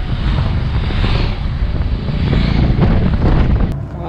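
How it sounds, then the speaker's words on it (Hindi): A pack of motorcycles roars past on a road by Pangong Lake in Ladakh, a loud, continuous engine rumble that swells with heavy wind buffeting the microphone. "सामने से आ रहा है ताबड़तोड़ बाइकर गैंग।"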